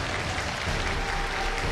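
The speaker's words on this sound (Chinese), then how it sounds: "掌声有请" A studio audience at a televised relationship show claps in a dense, steady wave of applause that welcomes guests, full and continuous without breaks.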